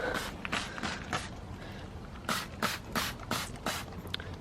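Bug remover is sprayed over the front of a Fiesta ST180 car in a series of short hissing bursts, several quick pumps in an irregular rhythm, fairly quiet and close.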